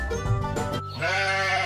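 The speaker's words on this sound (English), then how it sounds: "It's a sheep." A single sheep bleats loudly and close, one sustained wavering call lasting under two seconds, heard alone.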